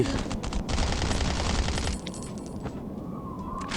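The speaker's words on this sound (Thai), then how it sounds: "ตอนนี้มีคนยิงผมจากไกลๆครับ" Rapid bursts of automatic gunfire rattle in the survival shooter game Last Island of Survival, a dense volley that eases after two seconds into a thinner, quieter stream of shots.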